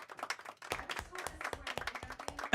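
A small studio group claps for guest Christine Cupo on a Manchester United football show, with sharp, close, uneven claps over about two seconds, mixed with voices and a louder burst at the end.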